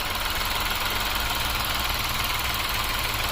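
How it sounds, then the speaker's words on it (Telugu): A Renault Kiger's 1-liter three-cylinder turbo petrol engine idles steadily with the bonnet open, a constant low rumble with a busy mechanical whir on top and no voices. "And this is 1 liter 3-cylinder engine, turbo, CVT transmission."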